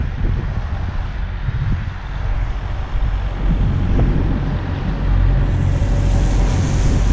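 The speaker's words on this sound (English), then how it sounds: "I'm getting the high wind again." High wind buffets a Phantom 4 Pro drone flying about 15 meters up over a truck stop, making a loud, continuous roaring rush that swells and gusts throughout, with no voices.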